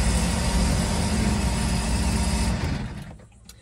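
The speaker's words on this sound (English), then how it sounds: "Here's my starboard side motor, which goes all the way up, interestingly enough, at idle" A Sea-Doo jet boat's starboard engine with a mechanical oil pressure gauge fitted idles with a steady, loud rumble close by, then is switched off and winds down into quiet over the last second.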